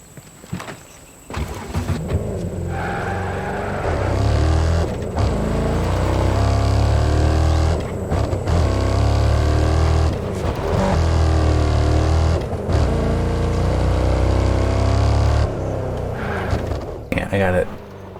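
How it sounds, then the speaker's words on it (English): A vehicle engine in the video game Ghost Recon Breakpoint drones loudly and steadily, rising and dipping with throttle, while someone talks over it. "That engine noise is quite loud in my ears."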